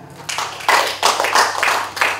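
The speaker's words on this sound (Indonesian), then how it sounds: "Tepuk tangan." Audience clapping at a formal inauguration ceremony in Papua, in a few loose bursts of claps that rise and fall over a steady low hum, fairly close.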